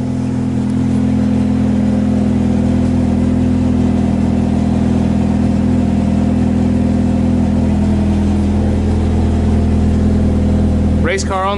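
Mazda Miata NA engine running loud and close, a steady droning idle with a slight rise in revs partway through.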